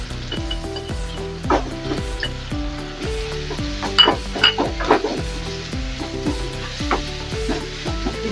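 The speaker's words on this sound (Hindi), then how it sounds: "तरीके से मसाला भून लेंगे अच्छा सा।" Spices and masala sizzle in a hot pan for aloo lobia, a steady frying crackle with a spoon stirring and clinking against the metal, close up, with no one talking.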